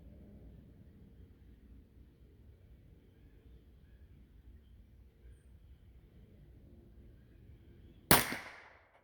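A single sharp shot from a Remington #4 rolling block rifle in .25-10 rimfire (.25 Stevens), a light crack near the end after quiet outdoor background, with a short fading tail.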